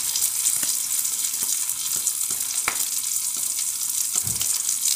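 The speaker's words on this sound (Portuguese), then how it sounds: "E a calabresa já está fritadinha, olha. Agora eu vou colocar a cebola" Calabresa sausage frying in a pan with onion just added gives a loud, steady sizzle, with a few light stirring clicks over the top and no talking.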